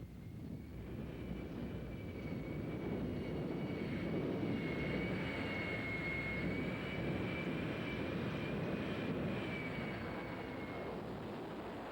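A jet truck's J79 jet engine, 36,000 horsepower, roars steadily and loudly throughout, a dense broadband rumble with a thin high whine riding on top, no voices.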